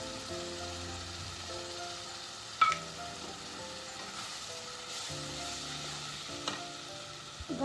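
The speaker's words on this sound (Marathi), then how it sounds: "व्यवस्थित मिक्स करून घेऊया काजूची पेस्ट" Cashew paste being stirred into a tomato-based Veg Kolhapuri gravy in a pan, giving a soft, low sizzle with occasional light scraping clicks of the spoon throughout, no voices.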